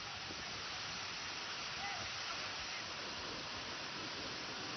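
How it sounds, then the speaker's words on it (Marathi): The Ukhlu waterfall near Chandoli, swollen by continuous pre-monsoon rain, gives a constant broadband roar with no breaks, steady and even throughout. "चांदोली परिसरातील सर्वात मोठा उखळूचा धबधबा तर संततधार पावसामुळे पावसाळ्यापूर्वीच प्रवाहित झालेला आहे"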